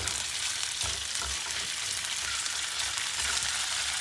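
Chicken for a grilled club sandwich fries in a pan, giving a steady, close hiss and crackle of hot oil with no talking.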